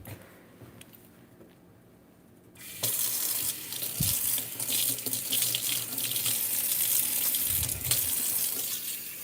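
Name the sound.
tap water rinsing in kitchen sink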